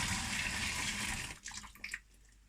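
Tap water runs steadily over a lid in a home kitchen during homebrew lager cleanup, a close splashing stream that cuts off partway, followed by a few soft drips and clinks.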